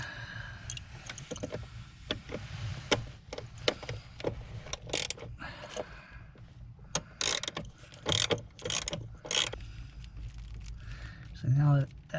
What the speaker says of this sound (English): all I have to do is undo this ground bolt